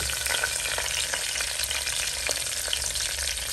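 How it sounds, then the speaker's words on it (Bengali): Bay leaves, black peppercorns, cinnamon, cardamom and cloves sizzle in hot oil for mutton korma: a loud, steady, dense crackling fry that holds unbroken throughout, with no voices. "তারপর এখানে দিব আমি তেজপাতা, গোলমরিচ, দারচিনি, এলাচ, লবঙ্গ"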